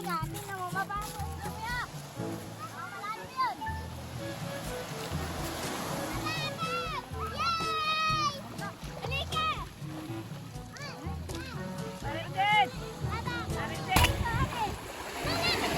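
Children splash while bathing in a shallow stream during a riverside picnic, with irregular nearby splashes blending with their excited voices and shouts throughout, a louder splash near the end.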